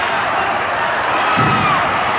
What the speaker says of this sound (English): The fans cheering Chris Carter on.